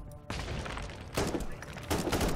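Three loud, broadband gunshots from a sniper gun in the video game Warhammer 40k: Inquisitor - Martyr, each blast followed by sustained rumbling noise, with no talk over them.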